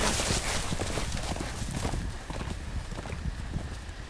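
Rapid hoof clip-clops of a galloping horse in the Telltale Game of Thrones video game, over a dense, steady background din, continuous throughout.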